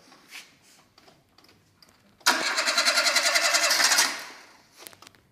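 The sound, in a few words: Renault Clio engine starting after engine swap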